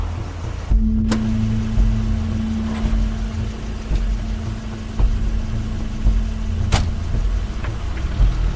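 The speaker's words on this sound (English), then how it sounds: "That's Crane's car" A car engine gives a steady, close low rumble throughout, with a sustained drone and a couple of sharp clicks over it.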